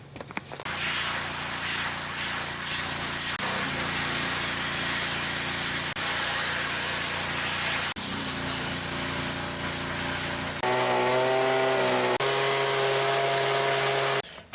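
A power tool fitted with a Koenig strip disc grinds paint and rust off parts of a Yates American B244 machine. The whine is loud and steady, with brief dips, and shifts to a higher, harmonic pitch near the end.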